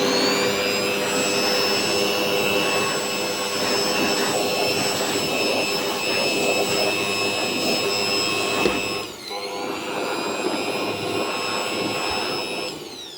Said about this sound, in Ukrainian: зараз спробуємо видуть усе оскільки там в деяких нішах іще пилюка позалишалася